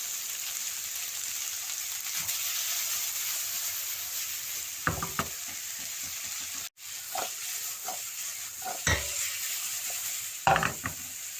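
Chicken, vegetables and spring onion sizzle in a pan over medium flame in a steady hiss, with scattered scrapes and clacks from stirring, a few louder near knocks, and no voices.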